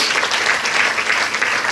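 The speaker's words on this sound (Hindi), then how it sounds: "तालियों से स्वागत।" A short burst of dense, steady applause from the audience at a Devi Bhagwat katha gathering, close and fairly loud with no voices over it.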